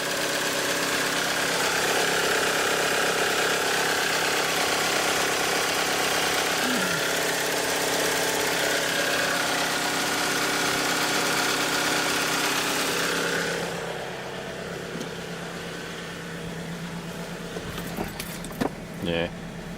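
A 1998 Toyota RAV4 engine idles cold, a steady mechanical drone with a faint ticking camshaft noise that runs loudly for most of the time before dropping to a quieter hum near the end.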